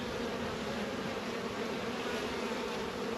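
Honey bees buzzing at an open beehive during a beekeeping inspection in New Zealand, a dense, steady swarm drone that carries on evenly throughout at close range, with no talk.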